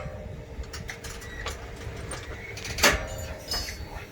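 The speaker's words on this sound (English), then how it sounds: "Hear everything creaking and popping." A farm seeder frame creaks and pops as it folds, with scattered clanks and knocks over a low steady mechanical hum, one sharper crack standing out near the end.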